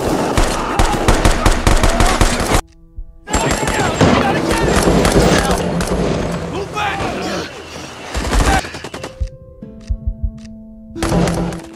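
Gunfire from a film firefight between revolutionary forces and opposing fighters, loud bursts of machine-gun fire and volleys of shots with brief gaps, dense and close, under a music or effects bed with a few isolated booms.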